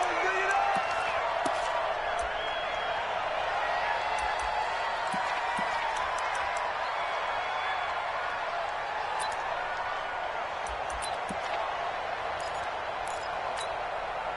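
The stadium crowd in an NFL video game of the Oakland Raiders against the Dallas Cowboys keeps up a steady, dense roar with scattered claps and shouts, while a commentator talks over it.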